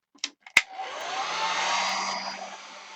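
A couple of clicks, then a hair dryer switches on and blows with a steady whooshing hum, close by, drying paint on a gel print art journal page.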